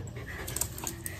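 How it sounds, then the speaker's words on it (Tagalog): A dog panting indoors at home, quick soft breaths repeating in a steady rhythm, close but faint, with no talk over it. "Naku, ang aking aso."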